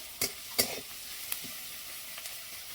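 Chopped onion frying in a pan until reddish, with a steady low sizzle and a few sharp scraping stirs near the start, then quieter frying with light clinks.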